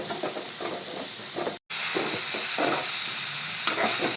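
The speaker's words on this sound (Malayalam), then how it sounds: "ഇനി നമുക്ക് അരിഞ്ഞു വെച്ച വലിയ ഉള്ളി ഈ ചൂടായ വെളിച്ചെണ്ണയിലേക്ക് ഇടാം. അവിടെ നമുക്ക് വഴറ്റിയെടുക്കാം." Chopped onions fry in hot coconut oil with a steady, loud hiss and sizzle, broken by a brief silent gap, while a spoon scrapes the pan in irregular strokes.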